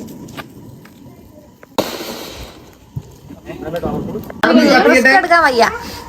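Firecrackers set off during Vishu celebrations crackle and burst in a dense sputtering volley, with sharp pops scattered before it and excited voices talking and shouting over the later part.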